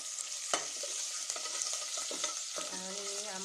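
Ginger and green chili paste sizzles in hot oil, a steady close crackling fry with scattered pops and stirring scrapes, quiet and continuous throughout.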